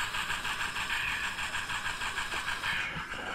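Model train cars run at a model train show at the Kern County Fairgrounds, giving a close, steady whir with a faint rhythmic clatter that continues evenly throughout.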